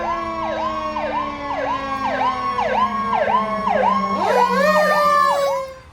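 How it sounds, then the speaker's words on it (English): An ambulance siren wails loud and close on a city street, a fast repeating up-and-down yelp cycling steadily, with a second overlapping siren tone entering near the end before it fades. "The ambulance is rolling out."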